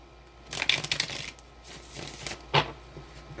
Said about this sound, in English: I can't even shuffle the cards